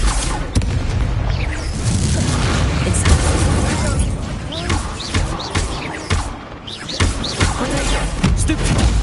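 Hogwarts Legacy's fire spell bursts out in a busy, loud duel, with rumbling booms and crackling blasts that overlap in a dense wash. Short gaps open briefly amid the continuous roar.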